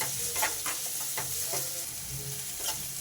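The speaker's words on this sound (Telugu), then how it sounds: "క్యాబేజ్, ఆనియన్స్, పచ్చిమిర్చి అన్నీ వేసేసి మంచిగా ఫ్రై చేసుకుందాం" Cabbage, onions and green chillies frying in oil in a pan for egg noodles, a continuous close sizzle broken by several rhythmic spatula scrapes, moderately loud and alone.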